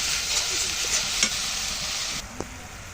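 Loud, dense sizzling as a soaked spice paste hits onion and garlic frying in hot oil, for a steamed fish dish. The hiss stays close and continuous, eases slightly near the end and carries a few faint clinks.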